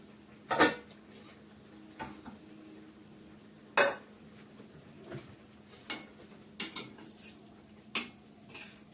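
Greens with ghee and garam masala are stirred in a heavy wok, giving sharp metallic clanks of the utensil at irregular intervals over a quiet low sizzle.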